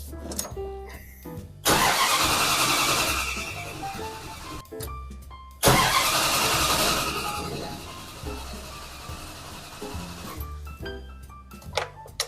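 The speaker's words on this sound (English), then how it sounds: "what I'm going to be doing is sitting in the driver's seat and turning the ignition over" 1970 Plymouth Custom Suburban engine cranking and starting, two long loud starter-and-engine surges after a low idle-like rumble, each catching and then tapering off, with brief mechanical clicks in between.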